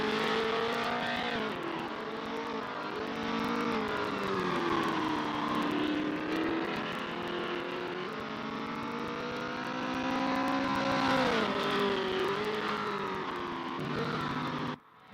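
Porsche race car engine in a racing simulation at Laguna Seca, a sustained near howl with gear-shift pitch dips and climbs as it drives through the Corkscrew, loud and continuous before cutting off at the end.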